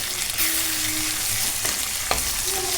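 Ginger garlic paste frying in a pan for a tomato egg curry, a steady close sizzle with a few sharp stirring scrapes of a spoon.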